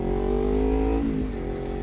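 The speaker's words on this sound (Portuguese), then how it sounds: "Tá estralando o escapamento. Tá guspindo na reduzida." A Kawasaki Ninja motorcycle revs close by, its exhaust burbling and popping on downshifts, a loud low engine drone that dips and rises briefly, with no talk over it.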